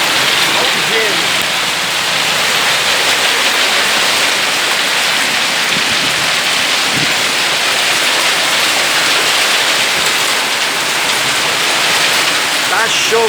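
A downpour with hail hammers São Paulo in a storm, producing a loud, continuous wash of rain that holds steady throughout, with faint scattered drops and knocks standing out now and then.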